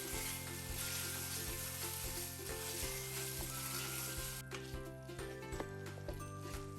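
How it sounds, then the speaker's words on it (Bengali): Spices and potatoes fry in a pan for a duck egg and potato curry, giving a soft, continuous sizzle with regular light taps of a spoon. "মশলাগুলো কষিয়ে নিব আরও 1 থেকে 2 মিনিট।"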